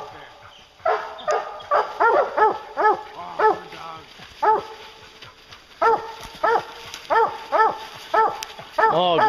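Several hunting hounds bark and bay repeatedly at a bear in bursts, fairly close, with brief pauses between volleys.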